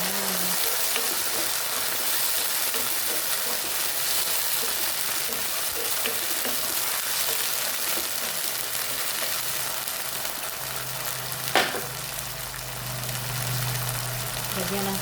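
Baked beans and hotdogs fry in a pan with a steady, even sizzle that runs throughout, with a brief clatter midway.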